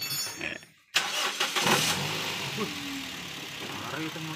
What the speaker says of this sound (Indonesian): Nyalain mesin